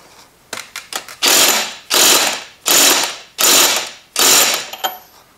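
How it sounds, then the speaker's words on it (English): A GY6 scooter starter clutch nut is tightened with a castle nut tool and ratchet: a few quick clicks, then five loud, evenly spaced bursts of ratcheting, close and with no talking. "Now I'm going to loosen it to tighten it with my castle nut tool."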